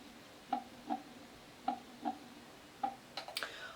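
A simulated heartbeat from a baby sleep sound machine thumps in soft paired beats at a slow steady pace, faint and clear, followed by a few quick clicks at the end.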